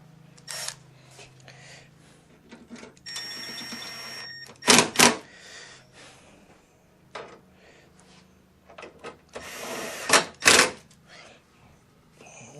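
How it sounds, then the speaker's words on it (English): A power drill tightens the headlight fasteners on a wrecked 2013 Chevy Impala in two short, loud whirring bursts, separated by quieter clicks and handling noises. "Find my drill. There it is. So I can tighten them down."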